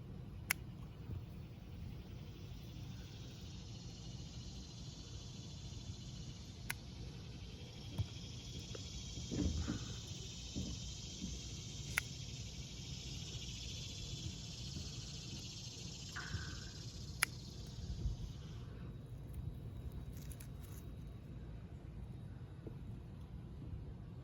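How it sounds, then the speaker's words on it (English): Cicadas drone in a garden, a steady high buzzing that holds for most of the stretch and then cuts off near the end, over low background rumble. "Yeah, cicadas like crazy."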